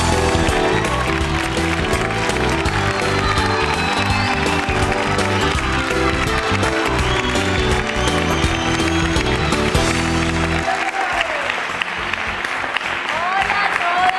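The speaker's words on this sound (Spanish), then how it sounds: "gracias por esos aplausos" Television studio audience applauding actress Paola Rey as she comes on set, dense continuous clapping with some cheering that runs loud for several seconds before thinning out and fading.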